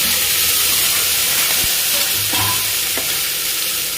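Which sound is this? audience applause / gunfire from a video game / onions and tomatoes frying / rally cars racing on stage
onions and tomatoes frying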